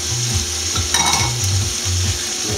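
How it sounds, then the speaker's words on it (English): Squid pieces drop into a hot frying pan for seafood pasta, giving a steady close sizzle with a brief louder splash and clatter as they land, and no talking. "last bit's the squid going in."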